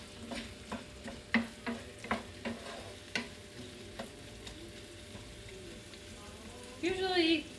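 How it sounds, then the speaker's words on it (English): Onions and garlic sizzle as they cook down in a pan, with repeated scraping stirs punctuating a quiet, steady fry. A voice speaks briefly near the end. "we're gonna add in our onions and our garlic. So we want this to cook down."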